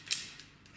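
Knitting machine blades are shifted by hand during cleaning and oiling, giving a brief, faint metallic creak and click, followed by a couple of softer ticks.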